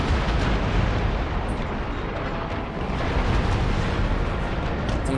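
Cannon broadsides in Empire: Total War striking a galleon's sails during a naval battle, a dense continuous roar of booming shots and crashing impacts, loud and sustained with no pause.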